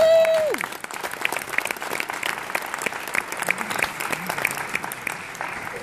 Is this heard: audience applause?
yes